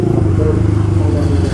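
A motorcycle engine rumbles steadily and loudly up close, a dense low throb running throughout without a clear rise in revs.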